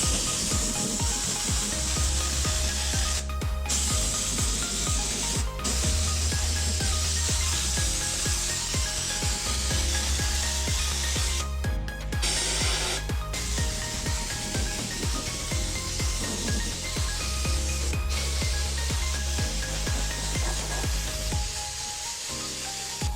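An Otoprotec oil sprayer hisses as it applies undercoating oil to a vehicle, with steady spraying bursts broken by short pauses and a low compressor-like hum underneath.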